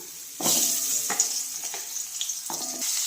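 Shallots sizzle and crackle steadily in oil, with a few stirring scrapes cutting through the bright frying hiss.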